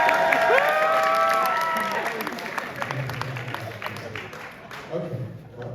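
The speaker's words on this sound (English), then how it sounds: "Crowd goes wild." An audience at a Siyum HoRambam celebration claps and cheers, the applause swelling at first and then carrying on steadily as a broad crowd wash with scattered voices mixed in.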